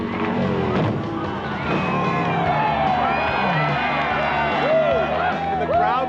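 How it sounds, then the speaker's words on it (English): Crowd cheers and whoops after a Harley-Davidson motorcycle jump, a loud sustained mix of shouts and excited voices with people talking close by. "And the crowd goes wild."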